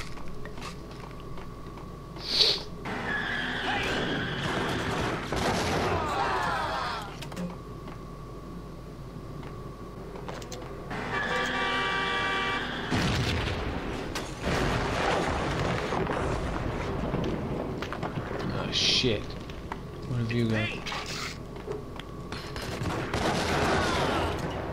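Gunfire in the video game Max Payne: repeated bursts of shots and impacts over a dense, busy game soundscape, loud and sustained, with brief louder cracks scattered throughout.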